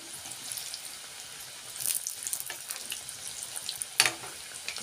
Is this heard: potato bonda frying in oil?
yes